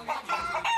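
A chicken clucking sound effect played on a breakfast radio show, a few quick close clucks in a short uneven burst, fairly loud and alone without talk.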